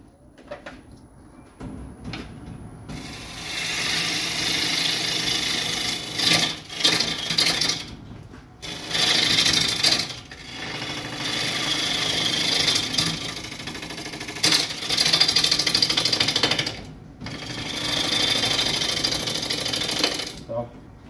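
Wood lathe turning a sheoak bowl, a tool scraping the spinning wood in long continuous rasping passes with brief pauses between them, close and fairly loud.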